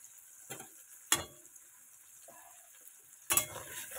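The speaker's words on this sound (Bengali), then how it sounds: "এবার দিয়ে দিয়েছি দেখো টমেটো, পেঁয়াজ আর গোটা রসুন, এগুলো ভাজা হবে" Tomato, onion and whole garlic cloves fry in a pan with a quiet, steady sizzle, broken by a few sharp clatters of stirring.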